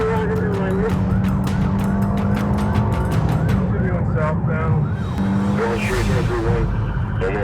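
A car speeds through city streets in a high-speed police chase, engine roaring loudly with a police siren wailing and swooping in and out, plus bursts of tire noise, all busy and close.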